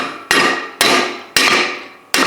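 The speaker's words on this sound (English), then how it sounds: "A brass hammer." Brass hammer striking a part on a skid steer track, four sharp metallic blows spaced about half a second apart, each ringing briefly before the next, close and loud with no voices.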